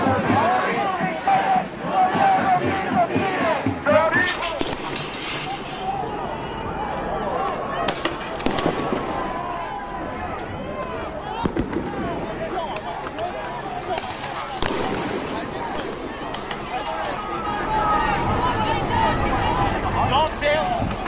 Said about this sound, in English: Flashbangs inside a college campus.